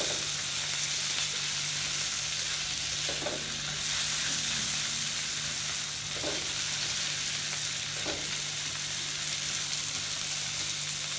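Tomatoes sauté in a pan for Chettinad crab masala, giving a constant close hiss of frying with occasional light stirring knocks.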